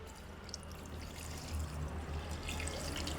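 Water poured steadily over car battery terminals to clean them, a soft continuous splashing trickle at close range, fairly quiet, with no voices.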